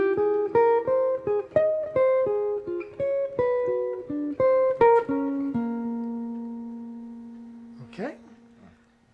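Bebop blues line on a jazz guitar across three measures, a run of clear, quick single plucked notes in steady rhythm, easing into a sustained ringing note, then a brief squeaky finger slide near the end.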